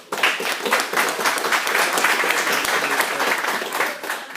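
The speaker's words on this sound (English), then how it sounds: "give her a round of applause" Sustained audience applause fills a room at a business seminar, dense steady clapping from a crowd lasting several seconds before fading slightly at the end.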